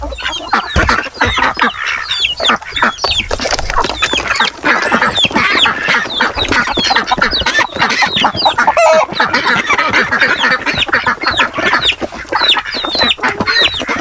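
Free-ranging native chickens and ducks at feeding time on a small farm, with a loud, constant mass of clucking and quacking from many birds at once.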